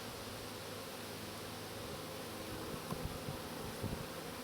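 Honeybees in a full summer hive buzzing steadily while the frames are opened for inspection, a dense, continuous drone with faint handling knocks near the end.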